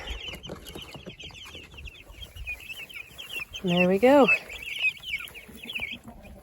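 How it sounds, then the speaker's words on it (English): Meat chickens clucking and calling close by as they are moved from a side porch by a house, with a louder burst of squawking in the middle and a person briefly talking over the birds. "we had some meat birds that we had on the side porch by the house, and today they're going from here to here."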